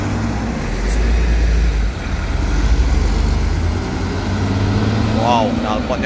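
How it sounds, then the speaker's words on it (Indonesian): An Al Hijrah intercity bus on the road with a roaring exhaust, a loud sustained low engine drone that dips briefly and then surges again, while people talk over it. "Wow, knalpotnya cooler kayaknya nih. Raungannya cooler."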